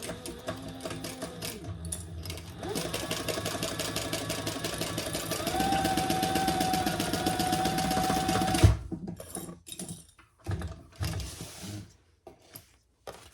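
A sewing machine runs a basting stitch on a crossbody bag lining, a loud continuous whirring drone for about nine seconds that stops abruptly, followed by quieter handling clicks and fabric shuffles.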